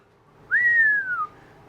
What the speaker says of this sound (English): Got to give it a whistle when it's that pretty.